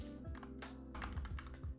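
Quick keystrokes on a computer keyboard, a short close burst of irregular clicking taps and clacks lasting under two seconds, with no voices.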